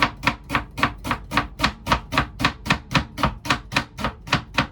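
Half an onion is chopped with a knife on a board in a small galley aboard a sailboat, a fast, even series of about eighteen crisp thuds in steady rhythm, close and loud, with no talking.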